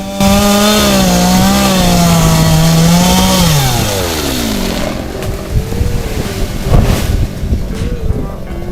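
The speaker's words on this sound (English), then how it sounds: "With a final roar, the chainsaw finishes the job, and the palm tree leans, gracefully bowing to the earth." Chainsaw cutting through a palm tree, a loud sustained engine whine that rises and falls in pitch as the saw labors through the trunk, then drops to a rougher idle with scattered cracks and thuds.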